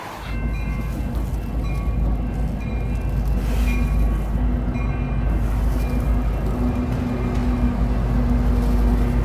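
A train rolling through the middle of town in London, Ontario, heard as a loud, steady rumble of wheels and rail cars with a faint horn-like tone, continuous for about nine seconds with no voices.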